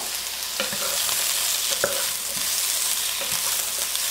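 Onions, peppers and pineapple fry in a pan for sweet and sour fish, making a continuous bright sizzle close up, with a few faint clicks and scrapes of stirring and no voices.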